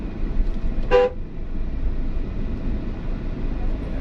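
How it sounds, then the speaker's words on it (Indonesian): A single short car horn honk, loud and close, during a driving lesson, over a steady low rumble of engine and traffic noise. "Oke, klakson aja Pak."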